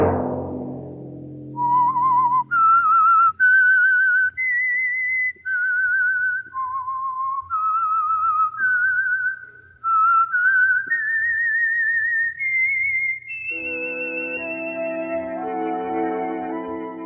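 A clear, close whistled melody of separate sustained notes, the theme of a vintage radio mystery program, drifts up and down in a slow, wavering line, ending with a soft orchestral chord underneath.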